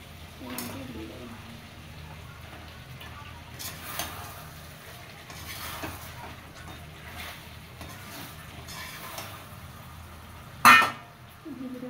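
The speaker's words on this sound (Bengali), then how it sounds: "ভিজে রাখা আলুটা দিয়ে একটু কষিয়ে নেবো, ভালো করে একটু কষিয়ে নেবো।" Chicken with soaked potatoes being sautéed in a pan, a steady low sizzle with occasional spoon scrapes and clinks, one sharp metallic knock near the end, and a voice talking intermittently over it.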